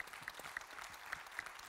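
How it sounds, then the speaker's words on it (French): An audience at a conference applauds, a soft, continuous wash of clapping from a large room, heard faintly from a distance. "On va déjà vous applaudir"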